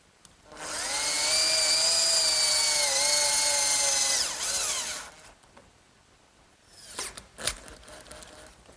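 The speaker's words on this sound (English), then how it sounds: "I'll hold it in place with some screws in the holes that I drilled earlier" A power drill drives screws into a wooden bed rail, a loud steady whine lasting several seconds before it winds down and stops, followed by a few clunks and handling knocks.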